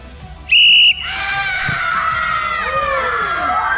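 A single sharp referee whistle blast at a matchday event, then a crowd of young academy voices erupts in loud, sustained screaming and cheering.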